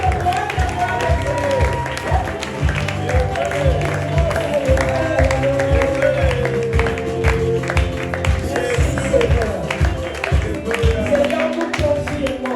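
A church congregation at a Sunday service claps and cheers, with rhythmic group clapping over a steady beat, voices and music ringing through the room, and loud continuous crowd sound.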